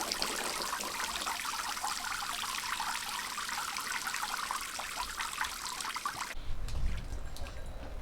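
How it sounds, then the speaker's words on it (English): Water from a hose trickles and pours steadily into a backyard paddling pool on a hot day, a continuous splashing stream that cuts off abruptly near the end, leaving a brief low rumble. "Can you maybe just turn the water off and see if the water stays in the paddling pool?"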